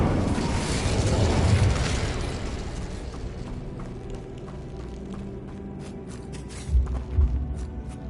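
Incendio fire spell cast in Hogwarts Legacy: a loud, roaring burst of flame that swells and then fades, followed by a couple of dull thumps near the end.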